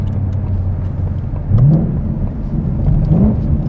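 A 2021 Ford Mustang Mach 1 with the Handling Pack and a resonator delete, its engine droning loudly from inside, then two quick rising rev blips from rev-matched downshifts.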